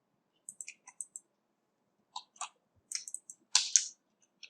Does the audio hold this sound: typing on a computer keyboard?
yes